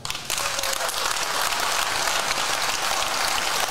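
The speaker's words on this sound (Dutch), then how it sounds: "Groot applaus voor Job Heijnen." Applause from the audience at a benefit evening, a sudden burst of many hands clapping that swells and holds steady, loud and close, with no talking over it.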